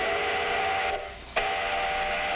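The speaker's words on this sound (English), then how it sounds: "That's an ore train, a symbol of a great Minnesota industry." A Minnesota iron ore train sounds a long, loud whistle that breaks off for a moment and then blasts again, holding a steady tone.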